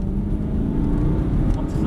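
An Aston Martin sports car's engine pulls hard on a racetrack, a loud, steady drone close by that holds throughout with little change.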